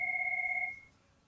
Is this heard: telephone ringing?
yes